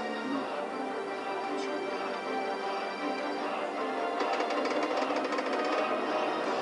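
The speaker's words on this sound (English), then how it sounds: "Just listen to that rattling." A day-one Xbox One console rattling, a steady dense buzzing clatter that runs continuously and close, growing slightly rougher toward the end.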